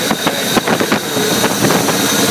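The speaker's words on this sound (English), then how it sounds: "I know y'all saying, damn, it sound loud, but I got a little exhaust leak back here on the other side." Loud, close idle of a 1989 Chevy Caprice engine with an exhaust leak, a steady rumble mixed with breathy hissing and irregular puffing pulses.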